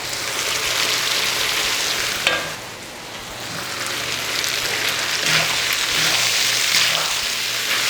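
Onions fry in a pan for chicken karahi, a continuous loud sizzle and crackle with occasional stirring scrapes, heard alone without talk.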